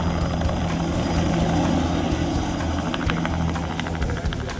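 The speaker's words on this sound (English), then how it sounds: "As the plane makes its final descent" Airplane making its final descent, a continuous rumbling engine drone with a propeller-like throb, loud and steady, easing slightly toward the end.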